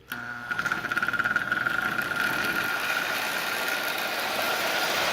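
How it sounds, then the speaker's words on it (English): A Marx 999 toy train engine runs in reverse, its small electric motor starting with a click, then whirring with a rapid mechanical chatter that settles into a steady hum, close and alone. "This engine is just running really well."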